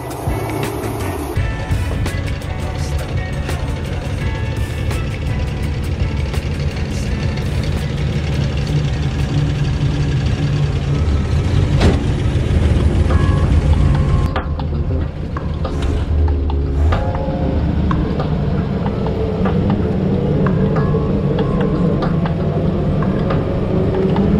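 A 1963 Studebaker Champ truck on its first drive, its engine and road roar loud and continuous throughout, with rattles and a brief shift in tone partway through.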